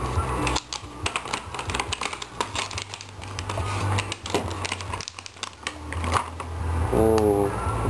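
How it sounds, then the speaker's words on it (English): Crinkling plastic wrapping being torn off a packaged puzzle cube, an oversized 3x3 close to a 4x4 in size, heard as close, irregular crackles and rustles with brief louder tears throughout. "let's unwrap this one."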